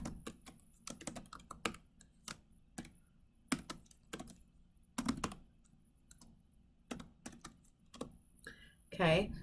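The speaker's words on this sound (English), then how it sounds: "I'm going to just go ahead and type in this method that I'm using" Clicking keystrokes on a computer keyboard as code is entered, coming in irregular clusters and short bursts, fairly close, with quiet gaps between runs.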